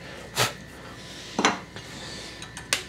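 A fishtail chisel pares the end grain of a Queen Anne table leg, giving three short, crisp scraping cuts spaced about a second apart, close and clear over a quiet workshop hum.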